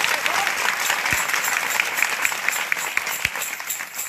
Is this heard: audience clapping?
yes